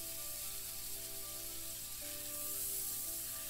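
Steady, fairly quiet sizzling of beef, shallots, garlic and carrots frying together in a pan, a continuous hiss with no talking.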